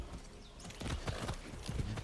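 Horse hooves clip-clop at a trot in Far Cry 6, a quick run of hard knocks that grows louder and busier toward the end, heard alone with no talk over them.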